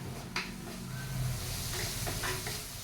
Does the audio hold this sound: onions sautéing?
yes